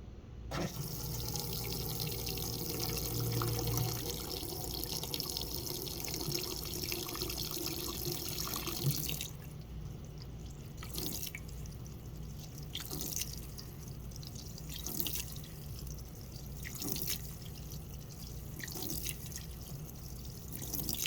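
An LG Sidekick pedestal washer on a rinse and spin cycle with one towel, giving a steady watery wash and trickle, then quieter intermittent splashing and sloshing, with no talking.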